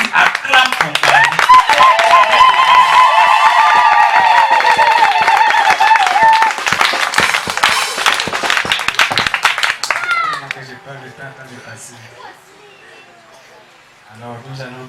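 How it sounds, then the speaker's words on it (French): A church congregation claps and cheers loudly for the Virgin Mary during a December teaching, with dense, sustained applause for about ten seconds before it dies away and a voice speaks. "J'ai dit acclame pour Marie."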